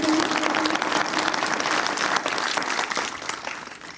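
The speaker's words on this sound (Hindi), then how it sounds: "आए भाई के लिए, इनके खानदान के लिए भरपूर ताली बजा देंगे।" Applause from a church audience for a brother and his family during a sermon gathering: dense, sustained clapping that fills the room and tapers slightly toward the end, with no voices over it.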